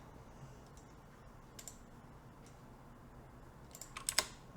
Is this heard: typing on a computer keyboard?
yes